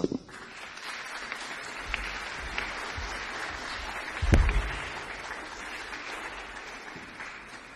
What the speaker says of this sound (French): Tout le monde applaudir.